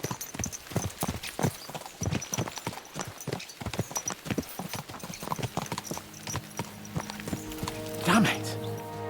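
Horses' hooves clip-clop in a steady walking rhythm while riding in Kingdom Come: Deliverance II, with people talking over the hoofbeats and a brief horse whinny near the end.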